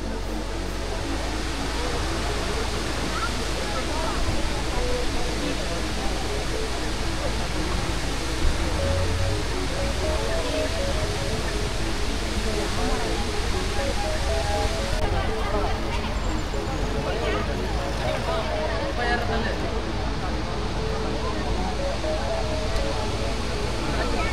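Steady roar of water pouring over Kodiveri dam, a broad continuous rush filling the scene at constant loudness for the whole stretch, with faint crowd murmur from visitors beneath it.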